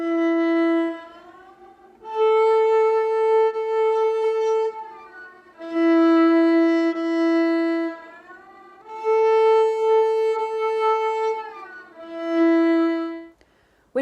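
A viola plays slow sustained notes, shifting from first finger in first position to second finger in third position while sliding on the old finger, with four bowed phrases, each gliding audibly between pitches, heard up close with no talk.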